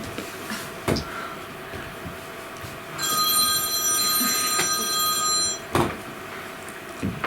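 A telephone bell rings loudly in an indoor room, one sustained burst of ringing lasting a few seconds, with a few knocks and bumps before and after and no talk over it.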